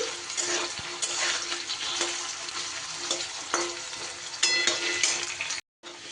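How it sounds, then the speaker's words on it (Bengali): Potatoes fry in a pan for a vegetarian dish, giving a loud, steady sizzle broken by a few clinks and stirring scrapes, then cutting out abruptly near the end. "আলুগুলো আমার ভাজা হতে হতে একটা মশলা আমি তৈরি করে নেব"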